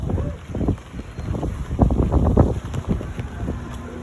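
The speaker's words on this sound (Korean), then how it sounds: "저 바람 너무 많이 불지 않아?" Strong gusts sweep across Palgongsan mountain near Daegu, by the cable car and observatory, buffeting the microphone in rough, uneven bursts that come close and loud, with brief lulls between them.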